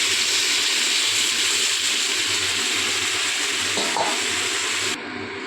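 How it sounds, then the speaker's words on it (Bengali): Water hits sautéed potatoes in a hot pan for aloo dum, setting off a loud, continuous sizzle and hiss close up that dies down sharply near the end. "তো আলুটা কষানো হয়ে গেল, এবার আমি এতে জল দিয়ে দেবো।"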